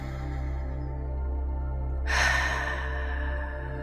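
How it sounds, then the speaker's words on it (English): One slow, deep breath taken during a guided meditation, a long airy inhale or exhale that swells gently near its end, heard up close over a steady low hum. "deep breaths into your heart."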